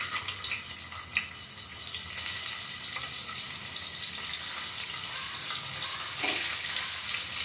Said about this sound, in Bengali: এবার আমি একে একে ডিমগুলো কড়াইতে ছেড়ে দিচ্ছি